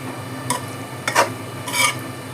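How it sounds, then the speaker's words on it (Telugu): Chicken curry masala being stirred in a pan with a spoon, giving three short scraping rasps spaced about half a second apart over a quiet kitchen background. "ఇప్పుడు ఈ విధంగా మనము మంచిగా ఈ మసాలా అంతా కలుపుకోవాలి"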